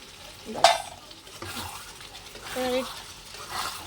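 Ground coriander, cumin and garam masala fry in a curry while being stirred, soft sizzling with a sharp utensil clink near the start and scraping strokes, close, with some talk over it.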